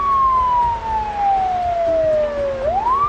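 Ambulance siren in the Project Zomboid video game, a single loud wailing tone gliding slowly downward for over two seconds, then sweeping back up, over a steady engine rumble with no talking.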